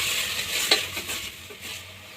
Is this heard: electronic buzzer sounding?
no